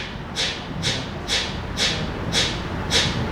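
A snappy synth with a short, tightly shaped volume envelope, produced in a music production workshop, pulses six times in an even rhythm of bright, clipped bursts over a steady noisy bed.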